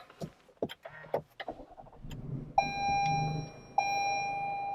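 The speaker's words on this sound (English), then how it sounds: "Now let's fire up that engine." A 2021 Toyota Highlander SUV is started: a few clicks and cabin handling noises, then a steady electronic chime tone with an engine hum settling in underneath, close and clear.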